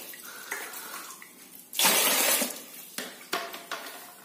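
Goat meat gets rinsed under running water, a loud gushing splash about midway with shorter sloshing pours and clinks from a bowl before and after, no talking.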